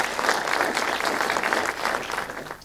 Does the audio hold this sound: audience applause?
yes